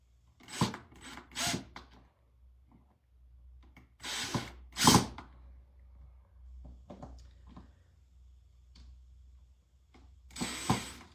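Screws are driven into a wooden garden sign in short, separate bursts of whirring power-driver noise with rubbing and quiet gaps between, close by and without speech.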